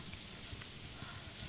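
Steady rain falls in the Tomb Raider video game, a soft continuous hiss of drops on surfaces with no talk, even and faint throughout.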